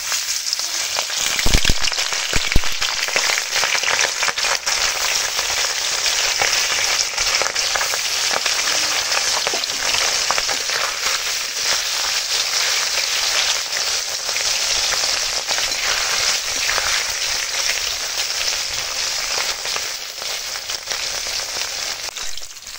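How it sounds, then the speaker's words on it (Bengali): Tengra fish frying in hot oil in a wok, a steady loud crackling sizzle that runs without a break, with a few sharper pops near the start. "কড়াই তেল গরম হয়ে এসেছে। এখন মাছগুলো ভেজে নেব।"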